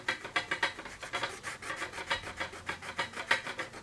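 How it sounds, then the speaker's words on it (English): A rubber eraser scrubs briskly back and forth across paper to remove pencil lines on a pen-and-ink building drawing, producing a fast, even series of dry rasping strokes close up. "Okay, just gonna rub out my lines"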